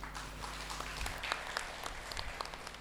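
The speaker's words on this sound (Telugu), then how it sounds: "వీళ్ళ కుటుంబ సభ్యులందరికీ చప్పట్లు కొడదాం" An audience at a pyramid inauguration event applauds, a soft, fairly distant patter of clapping with a low steady hum underneath.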